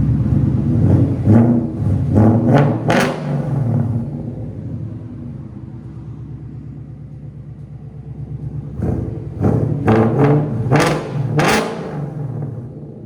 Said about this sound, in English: Here's what it sounds like before. '89 at idle. Go ahead and rev it.